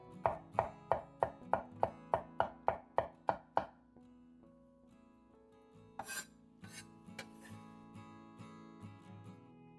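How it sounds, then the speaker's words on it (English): A vegetable cleaver smashes garlic, then rocks through it in a fast, even run of about a dozen sharp chops on a board. Softer, scattered knocks and scrapes follow. "A nice trick with this vegetable cleaver is to smash the garlic like this, and giving it a rocking chop"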